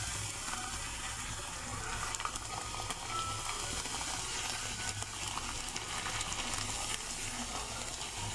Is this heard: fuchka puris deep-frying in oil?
yes